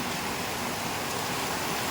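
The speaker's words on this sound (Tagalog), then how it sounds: "Ayan guys, bumuhos ang ulan." Heavy rain pours down steadily over a backyard garden, a dense, even hiss with no breaks and no voices.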